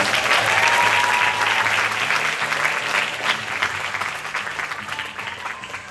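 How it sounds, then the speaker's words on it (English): Sustained audience applause fills a sales meeting room, loud and dense at first and gradually thinning toward the end, with no voices over it. "Let's give a round of applause to these people."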